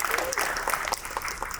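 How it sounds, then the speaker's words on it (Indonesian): Audience clapping at a national lecture event at a festival in Indonesia, a short burst of dense, steady applause from the crowd, with some talk over it. "Boleh tepuk tangan buat teman-teman sekalian."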